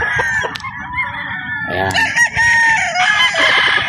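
Roosters at a game farm crow repeatedly, with overlapping loud cock-a-doodle-doo calls and clucks from the flock close by, while someone speaks briefly over them.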